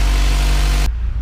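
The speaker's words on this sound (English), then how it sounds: "The car is on. It is idling." Turbocharged Honda Prelude engine idling, heard up close as a loud, steady low drone. The brighter upper part drops away abruptly near the end while the deep hum carries on.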